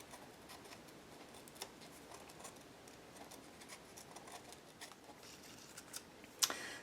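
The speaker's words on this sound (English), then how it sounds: "I just wiggle my scissors a little bit so it's not too even." Scissors snip through paper in a craft session, with quiet irregular cuts and soft rustling close to the microphone, ending in a sharper snip.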